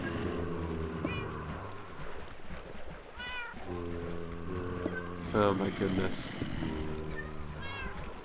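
Cats meow repeatedly in a video game, several drawn-out cries coming in bursts over a low steady game hum, while a player exclaims over them.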